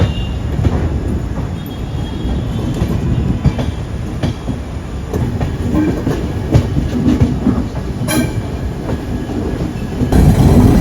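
Inside a Third AC coach of the Kochuveli–Mysore Express in India, a loud continuous rumble of the moving train fills the air, with clickety-clack wheel beats, faint squeals and a brief high screech.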